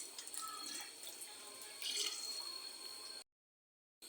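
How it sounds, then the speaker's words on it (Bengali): Hot water pours into a cooking pot while haleem is prepared, a soft splashing trickle for about three seconds that stops abruptly, followed by brief silence. "সেখানে গরম পানিটা দিয়ে দিলাম"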